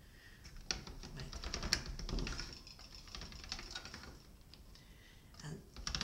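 Soft, conditioned polymer clay slices are fed through a hand-cranked pasta machine, making close clicking, clattering mechanical ratchets and creaks; a voice speaks briefly once.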